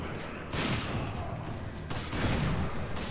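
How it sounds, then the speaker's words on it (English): Shotgun blasts in the Resident Evil 5 video game: two loud, broad bursts about a second and a half apart, each trailing into rumbling game noise. "Let's try the shotgun"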